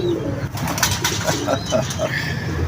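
Soft, repeated pigeon coos in a steady series, with low fluttering and a constant background hum.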